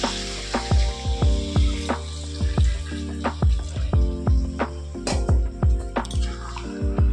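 Water hits a hot pan of taro (kochu) cooked down with spices, giving repeated bursts of sizzling and spluttering, sharp wet crackles recurring in quick pulses at close range.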